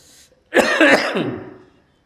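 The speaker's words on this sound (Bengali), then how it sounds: "কাশিটা বন্ধই হচ্ছে না" One person coughs and clears their throat close by, a single harsh burst of about a second after a brief quiet.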